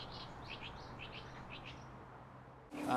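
Small birds chirp faintly and repeatedly from a distance on a quiet, overgrown river island with wetlands in the middle of a city, over a soft, steady background hush; a louder rush of noise breaks in at the very end.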